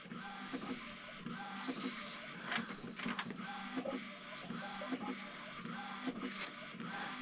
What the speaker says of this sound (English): What are you printing now?